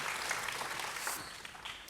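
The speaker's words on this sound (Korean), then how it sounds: "하나님께 영광 돌리는 우리 구전대 박수로 다시 한 번 더 축하하겠습니다." A church congregation applauds together, a fairly quiet, even patter of clapping that thins slightly toward the end.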